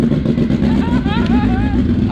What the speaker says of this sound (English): Rally. All-wheel drive rally car.